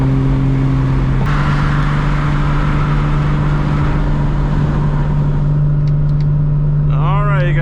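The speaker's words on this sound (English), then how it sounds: "This car sounds really good, you know, with the exhaust that it has now." A loud MKIV Toyota Supra with a 1600 HP engine and aftermarket exhaust drones steadily nearby with a deep, throaty exhaust tone, shifting pitch once early on; a voice starts talking at the end.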